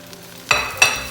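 Pad thai being stir-fried in a hot pan with freshly added scallions and bean sprouts, two sharp bursts of sizzling and scraping after a quiet start, close and fairly loud with no talk.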